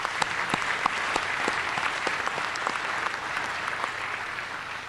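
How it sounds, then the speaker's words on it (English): An awards luncheon crowd claps for the award winners of the SAMCEDA 2013 Awards of Excellence, a continuous, full round of applause from many hands with no speech. "How about another round of applause for all of our award winners this afternoon?"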